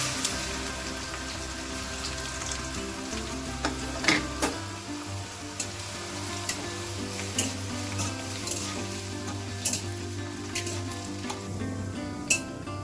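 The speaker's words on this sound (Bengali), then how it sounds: "রসুন কুচিটা দেওয়ার আগে গ্যাসের ফ্লেমটা একদম কমিয়ে দিলাম, কারণ নাহলে রসুনটা তেলে পড়ার সাথে সাথে না রসুনটা কালো হয়ে যাবে।" Chopped garlic sizzling in hot oil over a low gas flame, a steady close crackle with occasional sharp clicks and scrapes of stirring, no talk.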